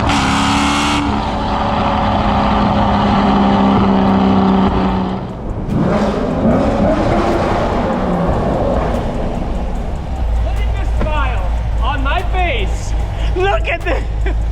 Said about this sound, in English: is a cammed car, so naturally this is going to be a little bit more louder than that Z06 that I reviewed